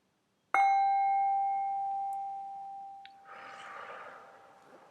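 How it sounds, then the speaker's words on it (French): A single stroke on a gong or Tibetan singing bowl rings out with a clear, sustained metallic tone that slowly fades over several seconds, followed by a soft breathy hiss. "On va faire un dernier gong"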